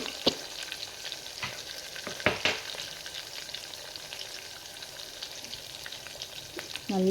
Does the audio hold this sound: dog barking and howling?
no